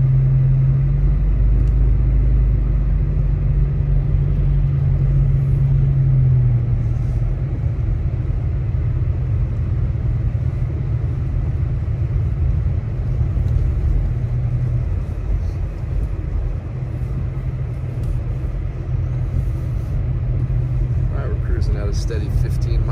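Steady car engine rumble and road noise from inside a vehicle moving at about 15 mph on a snowy mountain highway in Big Bear during a snowstorm, continuous and low, with voices speaking over it.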